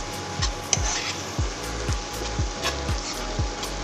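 Pineapple jam thickening in a wok, stirred in a steady rhythm of about one scraping stroke every half second, with faint sizzling underneath.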